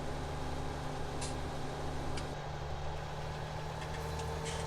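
A combine harvester engine in Farming Simulator 17 runs at a steady low idle, a constant droning hum with a couple of faint higher clicks, no talk over it.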